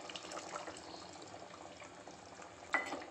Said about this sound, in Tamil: இந்த ஸ்டேஜில் புளித்தண்ணியை சேர்த்திக்கலாம்